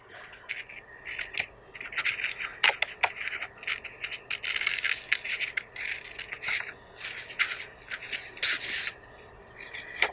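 Scissors snip through a paper tracing of a foreground in a sequence of short, crisp cuts and rustles, close and fairly quiet, with brief pauses between bursts.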